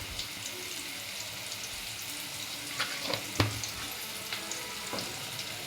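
A moong dal mixture fries quietly in a pan, a soft steady sizzle broken by a few sharp clicks and scrapes of stirring, with no voices.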